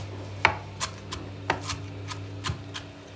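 A knife finely chops parsley rhythmically on a board, sharp taps about once or twice per second, close up over a low steady hum.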